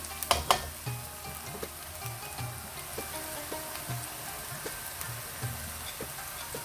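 Onions lightly frying in a pan for dhaba-style masala bhindi, a steady close sizzle with occasional soft clinks and stirring taps, no voices.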